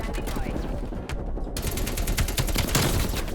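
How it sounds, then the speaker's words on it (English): Artillery strike in Black Ops Cold War, a rapid barrage of loud explosive blasts and gunfire-like cracks that is dense and continuous, with one brief dropout partway through. "that's gonna be the artillery"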